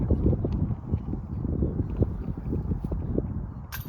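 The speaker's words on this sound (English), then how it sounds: "Headwind. Very strong." A strong headwind sweeps across a disc golf course in Haslet, with loud, gusty low rumbling buffeting close up, rising and falling unevenly, and no voices.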